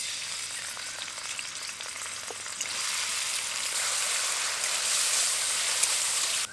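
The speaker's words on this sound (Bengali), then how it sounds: "এবার আলু দিয়ে ভেজে নেব।" Potatoes frying in hot mustard oil give a steady, loud, close sizzle that grows slightly stronger partway through and continues without pause, with no voices.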